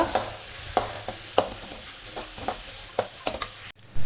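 Onions for a Kerala catering-style chicken curry are sautéed and stirred in a pan, with a steady soft sizzle broken by a series of sharp spoon scrapes and clinks, close and moderately loud, with no talking.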